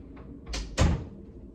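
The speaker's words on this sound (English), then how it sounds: "Let me close this door real quick." Indoors, a door is pushed shut with a soft swing followed by a firm thud as it closes, heard nearby and brief.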